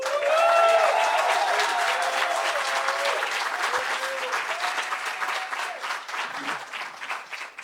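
An audience applauds to welcome a speaker at a literary tribute and reading, steady loud clapping with some cheering that slowly thins out, with voices faintly mixed in.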